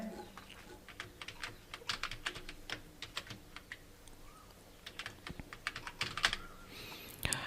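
Steady typing on a computer keyboard, close and fairly quiet, a run of irregular clicky keystrokes in bursts with short pauses, no voice.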